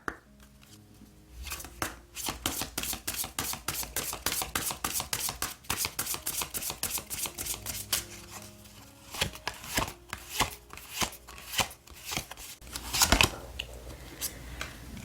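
Oracle cards being shuffled by hand, a close, crisp run of rapid papery riffles and taps in uneven bursts, with a sharper clatter near the end and no speech.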